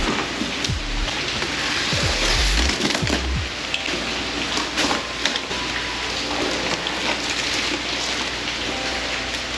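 Steady heavy rain hisses throughout, close and continuous, with a few dull thumps and knocks early on, heard from under a Jeep rooftop tent setup.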